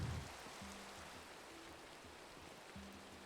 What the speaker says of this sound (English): I'm going to sleep so I can get this rain sound out of my ears